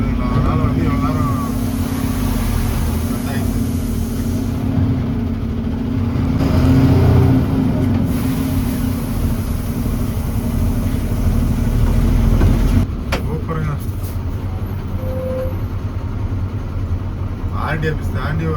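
A heavily loaded 16-wheel Ashok Leyland truck pulls away, its diesel engine droning steadily and rising briefly, with someone talking over it.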